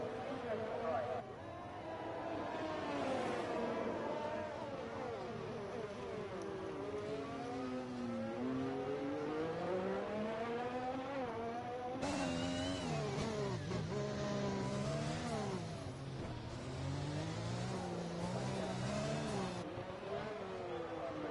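Formula One race car engines scream and shift pitch up and down through gear changes on the Azerbaijan street circuit in a racing video game, loud and continuous under steady commentary.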